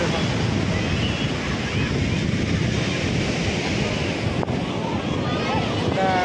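Ocean waves at Puri beach roll in as a constant, loud wash of surf mixed with heavy wind buffeting the microphone, with voices talking faintly beneath.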